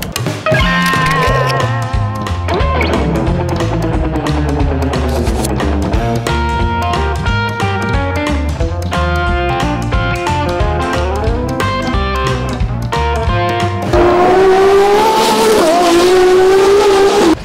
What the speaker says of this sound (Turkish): Arka tarafta sesleri duyuyorsunuz. Araçlar teker teker çıkmaya başladılar.